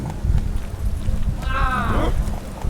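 Roach, a horse in The Witcher 3, gallops in a steady rhythmic clip-clop under a low rumble. A horse whinny rises midway.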